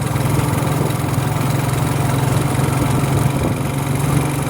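A motorcycle engine idles out in the countryside, a steady low drone holding at an even level throughout with no talking.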